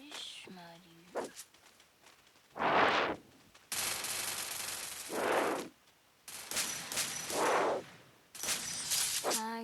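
Automatic gunfire in a video game firefight around a house rips out in several long, loud bursts separated by brief quiet gaps, with faint vocal sounds in between.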